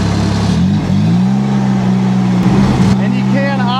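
A compact loader driving along, its engine holding a steady, loud, even drone close by, with a brief dip in the middle and someone talking over it near the end.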